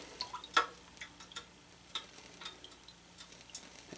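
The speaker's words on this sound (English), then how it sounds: "Sizzling, that's funny." Hot beeswax crackling and sizzling faintly as it is poured into a candle mold with a slightly damp wick, heard as sparse, quiet ticks and pops scattered over a low hiss, with no talking.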